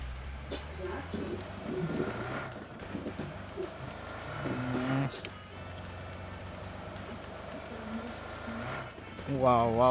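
A car drives in the battle-royale video game BGMI, with its engine revving and shifting in loud, fluctuating bursts while someone talks over the game audio.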